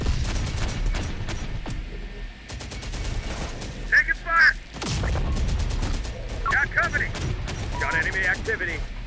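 Gunfire from the video game Terminator: Dark Fate - Defiance, a dense, continuous rattle of automatic bursts with occasional mechanical clanks, loud and steady throughout under bursts of game voices.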